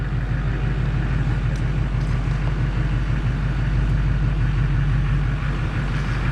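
Engine of a Chevrolet Silverado 2500 Duramax diesel pickup truck reversing, a steady low rumble with a continuous loud drone and no break throughout.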